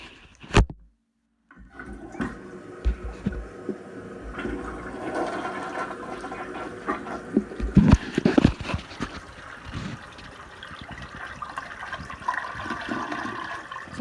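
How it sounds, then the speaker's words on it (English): A household toilet with hard-water staining flushes after a brief pause, with a rushing gurgle of water swirling and draining that carries on for several seconds, near and fairly loud, with occasional knocks and splashes. "I'm trying to flush with one hand."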